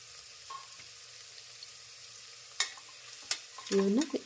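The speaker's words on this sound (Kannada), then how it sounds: "ಎಣ್ಣೆಯಲ್ಲಿ ಈರುಳ್ಳಿ ಹುರ್ಕೊಳ್ಳೋಣ. ಹಾಗೆಯೇ ಹಸಿಮೆಣಸಿನ್ಕಾಯಿನೂ ಹಾಕ್ಕೊಳ್ತೇನೆ." Onion and green chillies frying in oil, a faint low sizzle with a few sharp utensil clinks near the end and a brief tonal squeak.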